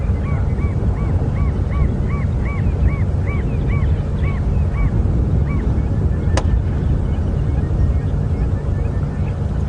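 Repeated honking calls from a family of geese at Arathusa Dam, Djuma Game Reserve, fairly distant, in an evenly spaced series over a steady roaring background rumble.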